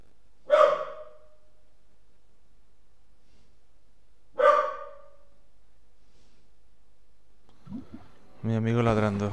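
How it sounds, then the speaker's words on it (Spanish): A dog in the video game Moonlighter barks twice, single sharp barks several seconds apart against silence, followed by a person beginning to speak at the end. "Mi amigo ladrando."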